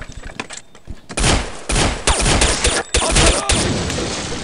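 Rapid volleys of gunfire in Counter-Strike Condition Zero: Deleted Scenes, with loud, dense bursts that stop and start in quick succession after a quieter opening second.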